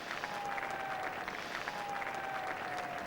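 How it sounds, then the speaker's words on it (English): A cricket crowd at Taunton applauds David Gower's fifty for England against Sri Lanka in the 1983 World Cup, a steady, distant patter of clapping with no voices on top. "It's the applause not only for him off the mark, but also for the 50 up."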